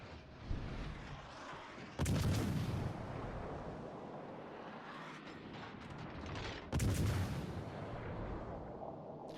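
Naval gunfire in a warship video game aimed at the battleship Iowa: two heavy booming salvos a few seconds apart, each with a sharp onset and a long rumbling decay over mechanical background noise.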